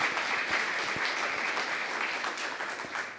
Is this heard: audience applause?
yes